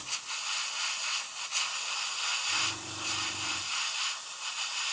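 An airbrush sprays paint onto a 1/48 Airfix Sea King model in a steady, continuous airy hiss, with a brief low hum partway through and no talking.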